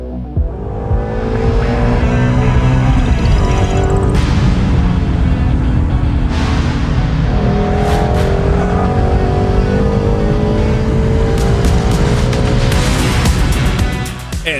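Race cars on a track accelerate and rev hard, engine pitch climbing through gear changes with sharp shifts, loud and close for the whole stretch.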